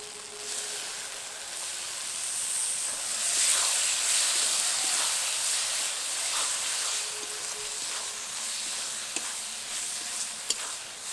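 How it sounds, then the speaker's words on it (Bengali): Pieces of goat fat hiss and sizzle as they hit a pan of spice paste being fried in oil, a steady bright crackling with small pops, moderately close. "এবার এই মশলার মধ্যে খাসির চর্বিগুলো দিয়ে দেব।"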